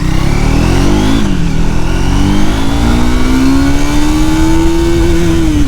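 A Triumph Thruxton 400 cafe racer motorcycle engine revs loudly and accelerates up through the gears, pitch climbing, dipping at a shift, then rising steadily again, close and alone.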